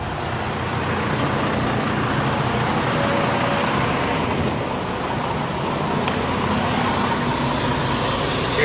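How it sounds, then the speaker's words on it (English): A semi truck's air system leaks during inspection, producing a continuous, fairly loud hiss over a low idling rumble that holds steady throughout. "That's the leak. It won't pass inspection with that leak."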